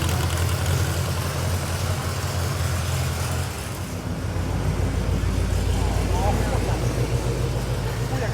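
An Oldsmobile Toronado's engine rumbles steadily at a car show in Bangkok, loud and close, its low drone shifting midway as the car pulls away amid surrounding traffic noise.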